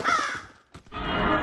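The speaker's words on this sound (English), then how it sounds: "Crows." Crows caw loudly and close by in the FNaF VR Halloween DLC game, two harsh calls separated by a brief pause, with a hissing ambient bed under them.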